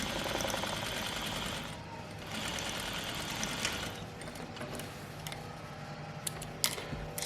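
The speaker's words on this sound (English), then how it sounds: "And then sew the rest of the way to the top" Sewing machine stitches a pocket seam in a steady, fast mechanical whirr with light ticking, faint and continuous throughout, no voices.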